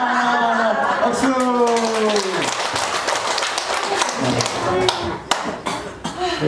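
An audience at a Korean lecture claps after a counting exercise, the applause starting over lingering sung or spoken voices, then breaking into scattered sharp claps and taps that thin out toward the end.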